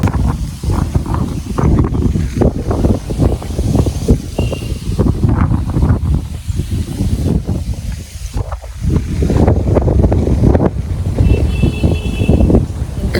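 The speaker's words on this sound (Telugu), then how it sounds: "ఫుల్ గాలి." Strong outdoor wind at Tirumala buffets the microphone with loud, continuous roaring gusts for the whole stretch, rising and easing slightly but never stopping.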